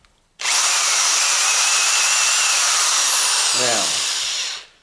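Power drill whirring loudly and steadily for about four seconds, starting abruptly and cutting off near the end, with a brief descending whine as it slows; no talking over it.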